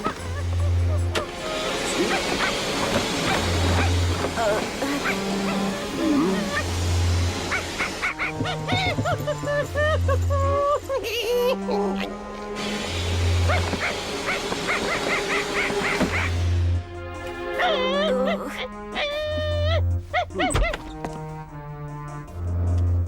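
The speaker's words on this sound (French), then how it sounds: "C'est bizarre, on aurait dit un chien." Cartoon dog barking and whimpering in repeated bursts, loud amid a busy animated soundtrack of music and effects, with some voices in the mix.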